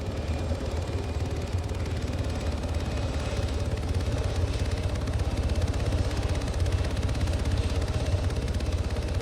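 A helicopter in the Arma 3 military game comes in to land near a base helipad. Its dense, steady rotor thrum and engine whine fill the scene at constant loudness, with no talking.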